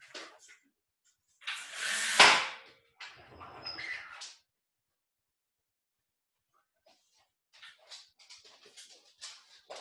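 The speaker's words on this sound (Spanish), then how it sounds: "mi perrita está rasguñando la puerta" A small dog scratches at a door in close, irregular bursts of rasping claws, with one loud flurry early on, silent gaps between, and lighter scrabbling later.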